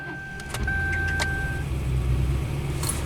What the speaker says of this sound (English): Let's give her a try.